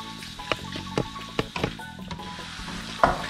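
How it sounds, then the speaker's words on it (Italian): Shrimp dropped into a pan of hot oil with sizzling garlic, giving a steady close crackle with several sharp spits and pops scattered through it and a louder burst near the end. "il nostro aglio sta iniziando a sfrigolare, allora possiamo mettere i nostri gamberetti"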